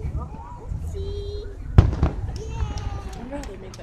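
Fireworks bang in a sharp burst near the middle, with scattered crackles and pops around it, under ongoing voices.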